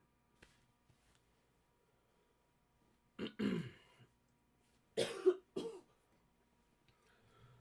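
A person with a dry throat clears it and coughs in a few short, harsh bursts separated by pauses, close and fairly loud against near silence.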